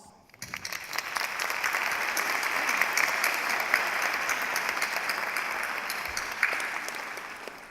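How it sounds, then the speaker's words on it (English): At a university commencement ceremony, a large audience applauds graduates' families, clapping swelling in over the first second and holding steady and broad before easing off at the end. "You all deserve a round of applause."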